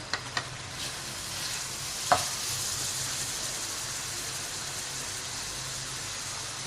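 Beef liver masala stir-fried in a pan, giving a steady, moderately loud sizzle with a few sharp clinks of the spoon near the start and one more scrape partway through.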